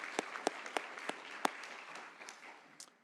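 Scattered applause from a modest audience at an awards ceremony, with distinct separate claps standing out before thinning into a softer patter.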